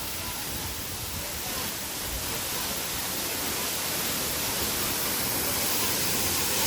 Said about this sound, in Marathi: तिथं पण पाणी पडतंय.